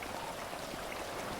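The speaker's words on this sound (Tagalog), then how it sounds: "Tapos lakas pa ng ulan." Steady heavy rain in GTA 5 at night on the highest mountain, a dense continuous patter of drops on surfaces with no talk over it.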